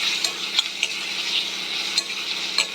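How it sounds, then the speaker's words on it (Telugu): Onions and green chillies fry in a pan with a bright, steady sizzle, punctuated by a few quick clinks and scrapes as the mixture is stirred, close and fairly loud. "ఇప్పుడు వీటిని మంచిగా కొంచెం సేపు ఫ్రై చేస్తూనే ఉండాలి"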